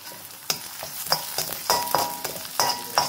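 Chillies sizzling in a hot pan for restaurant-style chilli chicken, a steady frying hiss broken by repeated clinking scrapes of a spatula stirring at an even rhythm, close and clear.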